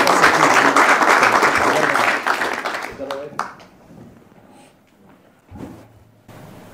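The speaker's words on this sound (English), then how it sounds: "Give him a big round of applause, folks." An audience at a boxing press conference claps loudly for about three seconds, then the applause fades into a quiet room with scattered small noises.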